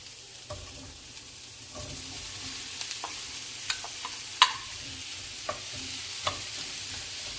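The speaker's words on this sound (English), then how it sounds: "We're going to go ahead and put in the mushrooms." Mushrooms sauté with browned garlic and onions in a pan, a low quiet sizzle under occasional spatula taps and scrapes, one noticeably sharper knock midway, with no talking.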